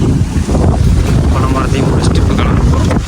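Strong wind gusting across an open outdoor spot where palmyra fruit was being harvested and eaten, a loud, steady broadband roar buffeting the microphone throughout without letting up.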